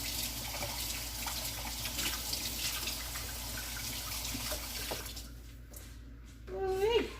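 A kitchen tap runs steadily for hand washing, a constant hiss of water for several seconds before it stops, then a brief voice-like sound near the end.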